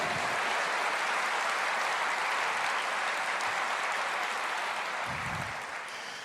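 A church congregation claps in a dense, even roar of applause, continuous and fairly distant-sounding, tapering slightly at the very end with hardly any voice over it.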